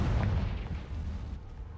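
A Confringo blasting spell detonating in the video game Hogwarts Legacy, a single deep, heavy boom that hits hard at once and rumbles away over about two seconds.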